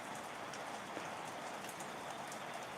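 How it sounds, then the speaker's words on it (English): Steady rain falling over a field of growing corn, a dense even patter of drops hissing on surfaces at moderate volume, continuous with no talking. "it makes me extra happy to have all of this rain falling"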